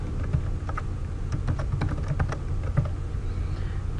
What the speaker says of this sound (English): you enter your email address